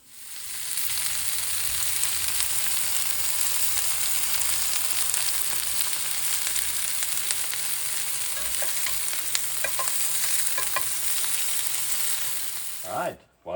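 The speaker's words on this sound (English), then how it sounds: "Our rouladen have nicely seared" Cabbage rolls sear in a hot pan with a loud, continuous broadband sizzle and crackle close by, holding steady throughout before cutting off abruptly at the end, with no talking.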